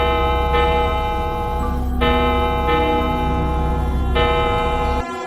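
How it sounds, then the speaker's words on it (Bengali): An old clock on a railway station platform strikes at night, with about four loud, ringing bell-like chimes spaced unevenly, each tone sustaining and overlapping the next over a steady low rumble, no voices present. "প্ল্যাটফর্মে দাঁড়িয়ে থাকা পুরনো ঘড়ি বারবার 12 ঘন্টা বেজে উঠল"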